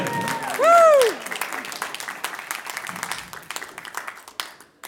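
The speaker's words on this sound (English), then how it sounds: "Give her a round of applause." At a poker event after a magic trick, a loud tonal cheer rises and is quickly followed by a crowd clapping, the applause thinning out and fading over several seconds.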